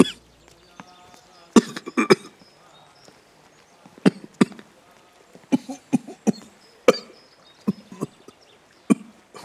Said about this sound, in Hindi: ये खांसी बहुत पुरानी है ना?